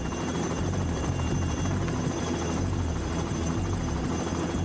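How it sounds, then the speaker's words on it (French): A helicopter hovers overhead with a concrete load slung beneath it, its rotor roar steady, loud and continuous and its churning downwash constant, with no voices heard. "au milieu du puissant courant descendant créé par l'hélicoptère"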